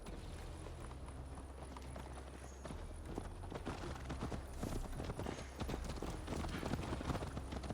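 Horse hooves galloping under a rider in Assassin's Creed Valhalla, a steady, close, continuous drumming of hoofbeats that holds throughout and grows slightly busier toward the end.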